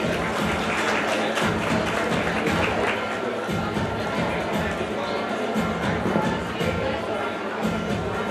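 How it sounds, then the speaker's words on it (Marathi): Sustained audience applause rings out for a student at a college annual function and prize distribution, a dense steady wash of clapping that carries through the whole stretch with faint crowd murmur beneath. "त्यांनी सर्वांनी या विद्यार्थ्याचं टाळ्या वाजवून या ठिकाणी कौतुक करावं."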